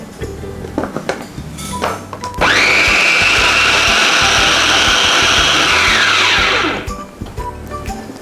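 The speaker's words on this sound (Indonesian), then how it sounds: "Selanjutnya tumisan bahan ini kita masukkan ke dalam chopper." An electric food chopper grinds sautéed spice ingredients for a sambal, a loud continuous whirring blade burst lasting about four seconds, preceded and followed by light clatter.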